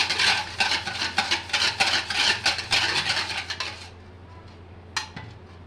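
Spoon scraping and clinking against a bowl while stirring eggless cupcake batter with vanilla essence, a busy run of rapid close scrapes for about four seconds, then quieter taps and one sharp knock.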